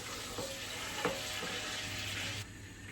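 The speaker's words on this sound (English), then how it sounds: "And I'm now going to add the bay leaf, cinnamon and cloves in there. Just give it a little stir." Bay leaf, cinnamon and cloves sizzle steadily in hot fat for butter chicken, with a few soft stirring knocks and a bright hiss that drops away near the end.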